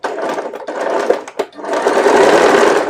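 A sewing machine stitches slowly around a readymade neck piece, its close, rapid mechanical rattle running in short bursts with brief pauses, then settling into a steady longer run.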